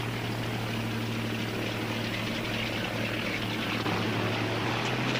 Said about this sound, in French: Regardez, un avion.